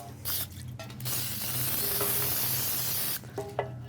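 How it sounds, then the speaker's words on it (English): Cooking spray hisses in a long, steady burst into baking pans for banana pudding, close and alone, with brief clatter before and after. "Then I'm going to spray my pans"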